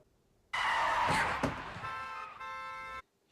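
Car horns in a TV drama scene, a loud sustained honk that starts abruptly, wavers, then shifts into a steadier blaring tone before cutting off, close and alone.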